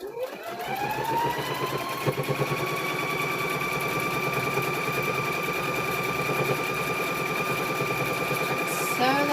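A sewing machine runs continuously, stitching pieced quilt squares, with a steady rapid mechanical whir and motor tone, close up, and someone talking over it now and then.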